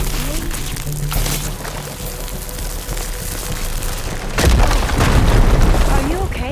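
A firegleam deposit exploding in the video game Horizon Forbidden West, a loud deep boom that breaks out midway over a rumbling game soundscape, with character voices speaking before it.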